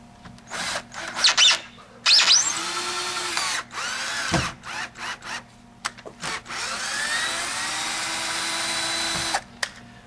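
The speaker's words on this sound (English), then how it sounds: "battery operated drill. It's not very powerful, but it's doing the trick" Battery-operated drill driving 3-inch screws while installing a flag pole, a whirring motor in several bursts of varying length with short pauses, then one long sustained run, loud and close.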